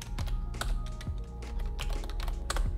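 Someone types on a computer keyboard. The clicks are rapid, irregular and close by, with no voice over them.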